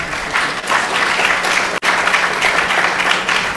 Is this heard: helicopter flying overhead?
no